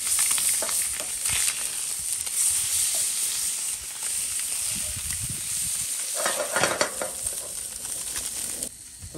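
Crappie fillets, blackened and Cajun-style, frying in a pan over a hot outdoor fire at Toledo Bend, giving a steady loud sizzle with crackling spits and brief stirring or flipping scrapes, alone without talk.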